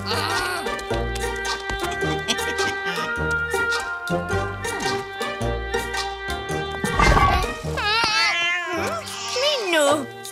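A cat meows repeatedly in rising and falling cries, mixed with louder wavering caterwaul-like calls near the end, heard over lively music and voices close by.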